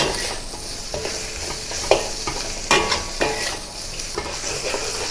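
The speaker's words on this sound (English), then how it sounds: "add the green vegetables, the onions, and stir fry" Beef stir-fried with green vegetables and onions for black bean beef, giving a steady close sizzle with scraping stirs and light clinks of utensil against pan throughout, no voices.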